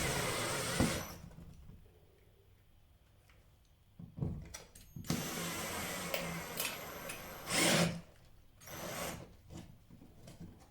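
Plasterboard wall plug being fitted to secure an Ikea kitchen cabinet, with rough rubbing and scraping tool noise in bursts, a quieter stretch, then louder grinding passages, close and without speech.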